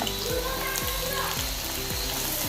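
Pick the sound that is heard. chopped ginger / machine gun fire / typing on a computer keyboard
chopped ginger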